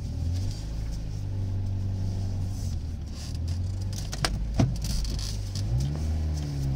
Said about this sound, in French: Elle roule très bien cette voiture.